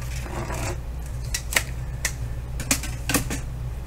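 Paper is trimmed to size with a trimmer, giving a series of sharp clicks and short slicing snaps close to the microphone over a low steady hum, with no speech.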